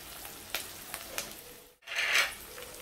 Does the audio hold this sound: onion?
yes